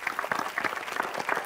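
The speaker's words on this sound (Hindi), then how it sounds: "जोरदार ताली।" Studio audience applause on a Hindi game show, a short, steady burst of many hands clapping together at moderate loudness.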